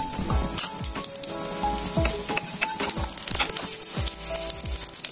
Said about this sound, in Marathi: तेल गरम झाल्यानंतर एक अर्धा चमचा जिरे घालूयात आपण।